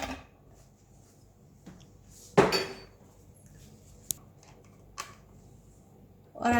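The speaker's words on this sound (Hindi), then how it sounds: "और थोड़ी सी बर्फ डालेंगे।" Ice cubes dropped into a blender jar for a dates milkshake with bananas and cardamom powder, a few sharp hard clinks and clatters spaced apart, with one louder rattling tumble, close and otherwise quiet.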